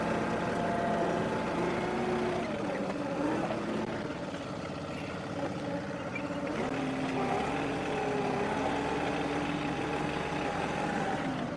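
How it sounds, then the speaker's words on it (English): A John Deere 2038R compact tractor engine runs steadily while leveling rough, weedy ground, a moderate, wavering drone with engine pitch shifting slightly as the load changes. "It's just going to be us using the tractor, leveling this area out."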